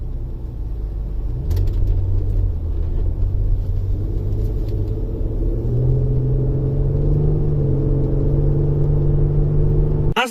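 A 2003 Renault Vel Satis 3.5 V6 cruises along the road, its engine a low steady rumble with rising tone as it accelerates, under smooth road noise inside the cabin.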